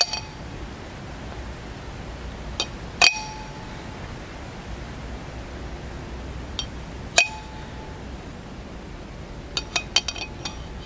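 A drinking glass clinks sharply several times during a life hack attempt, bright glassy pings and knocks against a steady hiss of background noise, with a faster cluster of clinks near the end.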